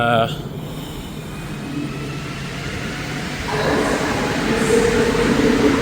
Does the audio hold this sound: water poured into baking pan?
no